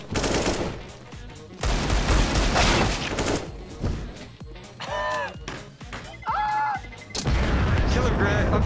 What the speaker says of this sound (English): I'm gonna shoot Skyboy so bad